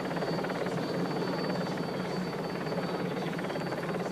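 A helicopter flies over the 1993 Paris-Roubaix cycling race, its rotor producing a steady, dense thudding roar that fills the clip without breaks or talk.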